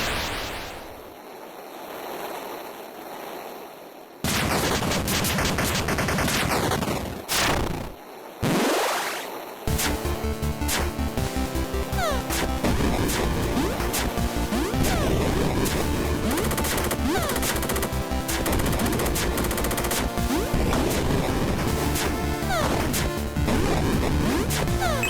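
A bomb explosion in the dragon game Heritage: A Dragon's, a loud crash that breaks into dense, roaring game noise with heavy bursts and chaotic impacts, continuing steadily and loudly with no talk.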